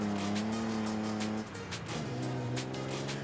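A 2JZ-swapped Jaguar E-Type in Forza Horizon 5 drones loudly with a steady, harmonic engine note that dips mid-way as the revs drop, then climbs again with faint tire squeal.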